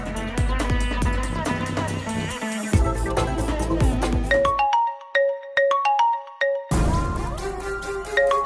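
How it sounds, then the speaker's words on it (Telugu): A phone rings after a call is placed, with a melodic ringtone of repeated bright chiming notes that plays loud and close, starting over dense musical backing that drops away midway before returning. "ఒకసారి ఫోన్ చేసి చూద్దాం."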